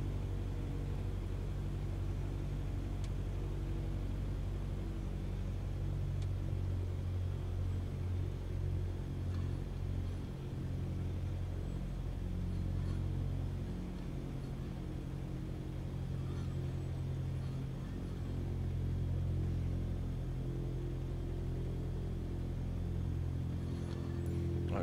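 An aircraft engine in Microsoft Flight Simulator rumbles steadily while the plane taxis toward a runway holding point, a continuous deep drone at moderate volume with no pauses.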